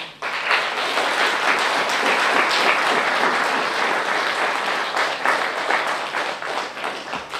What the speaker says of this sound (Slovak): Zaslúžia si ešte raz jeden obrovský potlesk.